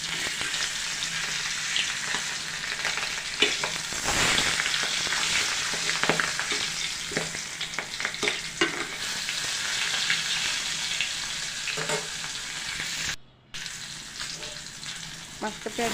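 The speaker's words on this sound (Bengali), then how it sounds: "এবার মাছটা একটু ভাজা হয়ে গেছে, আমি একে উল্টিয়ে দিচ্ছি।" Pieces of pangas fish fry in hot oil with a loud, continuous crackling sizzle, broken by scraping and clatter as they are flipped in the pan, plus a brief sharp dropout near the end.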